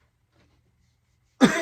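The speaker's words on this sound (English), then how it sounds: "I'm sorry about the coughing, guys." A single sharp, close throat clearing or cough bursts out loudly after a stretch of near silence, ending the short stretch.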